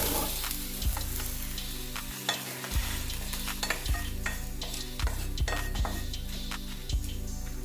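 A utensil scrapes and knocks against a pan in a steady rhythm, moving roasted ingredients for brinjal gravy across metal onto a plate over a faint lingering sizzle; no talking.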